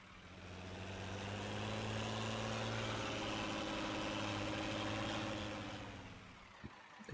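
A tractor engine in the video game Farming Simulator 19 drones steadily at a low pitch, loud and sustained throughout, with a faint clunk near the end.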